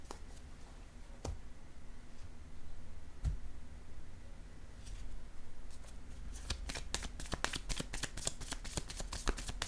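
Tarot cards are shuffled close by, with a few isolated soft taps followed by a rapid run of crisp riffling flicks toward the end, quiet and without talk.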